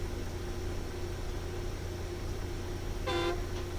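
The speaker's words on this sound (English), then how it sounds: "Horn sounds good." A single short truck horn blast from an Azov 7330 mod in SnowRunner, sounding briefly near the end over a steady engine rumble and background noise, with no voices.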